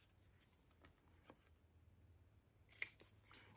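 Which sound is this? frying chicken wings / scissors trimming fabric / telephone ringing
scissors trimming fabric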